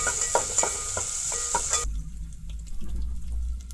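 Coconut being roasted in ghee in a pan for a sweet jaggery pitha, a steady sizzling hiss with light stirring scrapes that drops to a quieter, duller bubbling midway, close and without talk.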